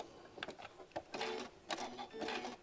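Sewing machine stitching fabric in short bursts, pausing between runs as the seam pivots and is lined up, close and clear with no talking.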